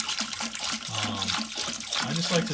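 An RV toilet flushes pink antifreeze down the drain during winterizing, a steady rush of water running close by while someone talks over it.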